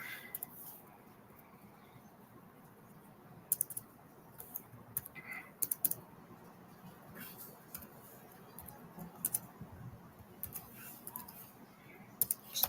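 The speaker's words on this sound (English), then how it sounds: "I'm steady typing around." Soft, irregular clicks of typing on a computer keyboard come in scattered bursts, faint and close, with a quiet background hum.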